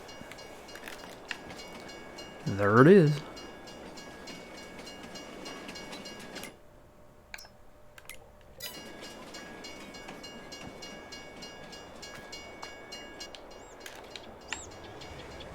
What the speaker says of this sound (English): the train's coming back from the east there